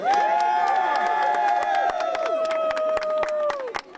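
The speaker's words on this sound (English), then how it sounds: "let's clap it up for the kids" Crowd at a New York City back-to-school event clapping and cheering for schoolchildren, a steady wash of applause with whoops and shouts over about four seconds, loud and close throughout.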